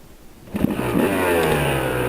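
A Kawasaki KLX dirt bike engine revs hard while riding in circles through snow on private property, starting quiet then climbing into a loud, sustained wide-open roar that holds steady to the end.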